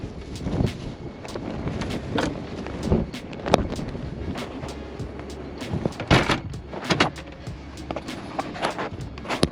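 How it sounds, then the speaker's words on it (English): Strong wind buffets the microphone in low, gusty rumbles, while footsteps and scattered knocks come and go over it. "it is beyond insanely windy out there, as you could tell"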